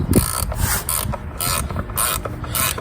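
A ratchet wrench clicks in rhythmic bursts while tightening bolts on the valve cover of a 2006 Buick Lucerne during a gasket repair, loud and close with about five repeated ratcheting strokes and no speech.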